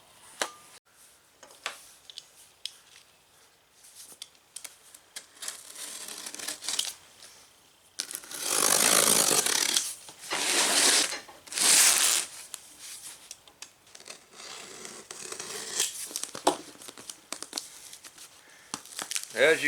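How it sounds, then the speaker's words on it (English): Plastic packaging and shrink wrap around a Bestarc BTC500DP plasma cutter box crinkle and tear in loud, close bursts, heaviest in the middle stretch, with quieter rustling and small taps before and after. "We'll open the box up and see how it's packaged."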